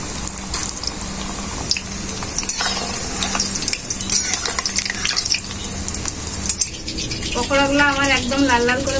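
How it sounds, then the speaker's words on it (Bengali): Prawn pakoras fry in hot white oil in a wok, giving a steady close sizzle with stirring and scraping, while a voice speaks over the cooking. "এখন আমি চিংড়ি মাছের পকোড়াগুলো ভেজে নেব।"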